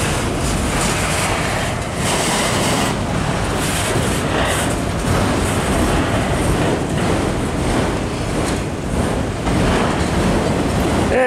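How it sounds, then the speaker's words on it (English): A train rumbles past close by, a loud continuous roar of wheels and cars with rhythmic clattering bursts, no voices. "the last car of the train gets out of the way"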